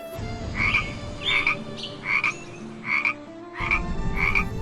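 Frogs croak at a pond in a steady series of about seven short, bright calls spaced roughly half a second apart, fairly close and clear over a low background hum.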